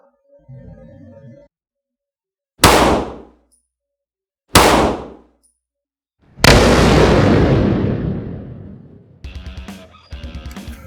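A Kahr CW9 pistol fires 115 grain Super Vel solid copper rounds: three loud, sharp reports spaced a couple of seconds apart, the last ringing out longer, followed by metallic clanking and handling noise.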